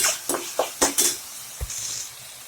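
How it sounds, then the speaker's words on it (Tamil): Country chicken breast meat sautéed with tomato and a little rock salt in a metal pan: sharp spatula clinks and scrapes against the pan over a light, close sizzle. "கொஞ்சமாக கல் உப்பு போட்டுடலாம் அப்படியே போட்டு வதக்கலாம்"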